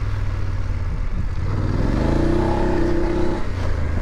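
A 2022 BMW F850GS Adventure motorcycle riding off-road over ruts and rocks, engine droning with a brief rising rev midway amid rumbling wind and terrain noise, fairly loud and close.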